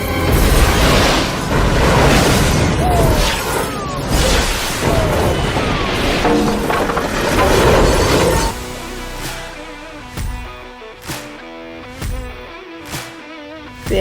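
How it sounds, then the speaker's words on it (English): A bomb explosion in a short film sets off a loud, sustained roaring blast of debris and crashing for about eight seconds, then drops off to quieter, scattered sharp hits and thuds. "It's a bomb!"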